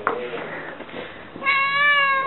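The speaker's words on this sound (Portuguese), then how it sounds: "Seu gatinho safado." A cat meows loudly and drawn-out, close by, after a second of muffled rustling and handling noise.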